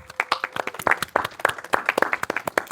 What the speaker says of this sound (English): Can everyone give them another round of applause?